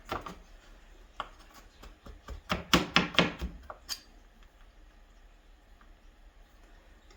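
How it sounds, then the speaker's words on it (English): Garlic being minced with a knife on a cutting board, a burst of quick, sharp rhythmic chops clustered in the middle, with a few scattered taps before and after and quiet gaps between. "So we have our garlic minced as small as we can get it."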